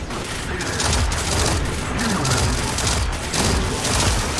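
Pulse rifle fire in Destiny 2 comes as repeated close, loud bursts of shots in a rapid, rhythmic pattern.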